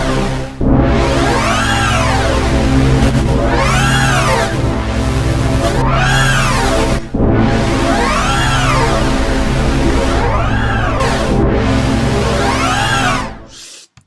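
Ableton Analog synthesizer with both oscillators routed through serial filters: a loud, sustained buzzing synth tone with repeated sweeping filter movements rising and falling, played alone for about thirteen seconds before cutting off.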